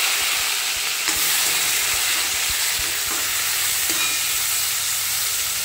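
Tomato pieces hit hot oil in a pan while a Bengali fish dish is cooked, giving a steady, bright frying sizzle with occasional faint clinks and stirring knocks, no voices.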